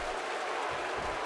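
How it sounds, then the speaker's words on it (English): A wrestling arena crowd in WWE 2K15 keeps up a loud, steady roar of cheering and applause, a dense wash of noise filling the whole short moment. "The crowd trying to get Balor going again."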